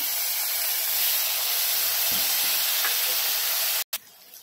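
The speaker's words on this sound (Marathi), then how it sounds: "मसाले चांगले भाजले, आपण थोडं पाणी टाकूया" Masala that has been roasted in a pan sizzles sharply as water is added, a loud, close, continuous hiss that cuts off abruptly near the end.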